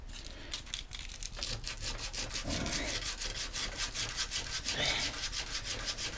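Sandpaper rubbing over the bowl of a hand-carved wooden spoon, a steady close scratchy rasp in quick repeated back-and-forth strokes that runs through the whole stretch with no talking.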